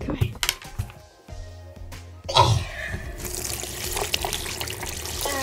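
Warm water runs and trickles from a tap on a snowy day, a steady hiss and splash that starts midway and continues to the end, with brief voices and handling noises beforehand.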